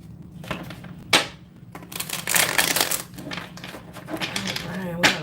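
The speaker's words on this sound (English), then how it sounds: "And I'm going to do one more shuffle here." Tarot cards shuffled by hand at close range, riffling and sliding in short, uneven bursts with a few sharp snaps, quiet and with no talking over them.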